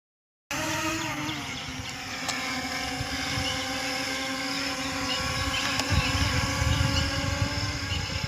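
An M3 Max drone flies in the open, its rotors giving a steady high buzzing whine with pitched harmonic tones that holds from start to finish at a fairly constant level.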